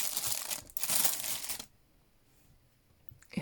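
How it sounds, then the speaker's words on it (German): Packaging of a squishy painting pen rustles and crinkles up close in loud bursts, then goes quiet before a brief final crackle. "Jetzt raschel ich doch nochmal"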